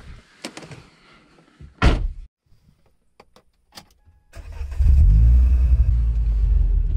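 A Renault Clio 3 RS Gordini with its F4R engine and Scorpion exhaust starts a road test. Door clunks and cabin handling noises come first, then the engine fires up and revs with a loud, deep, steady roar.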